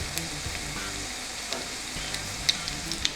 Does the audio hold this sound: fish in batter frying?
yes